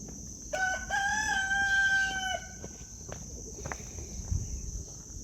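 A rooster crows once, long and clear, on a homestead with over twenty farm birds and a pig, while a steady high insect drone of crickets runs throughout and faint rustling follows.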